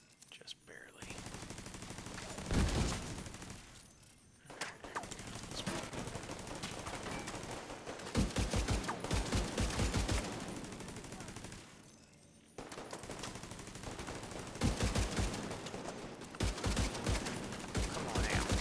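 Gunfire in The Division 2, with sustained bursts of automatic fire and rapid shot volleys across most of the stretch, briefly pausing twice, with a voice talking at times underneath.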